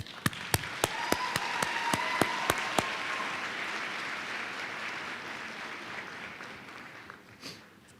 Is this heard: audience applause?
yes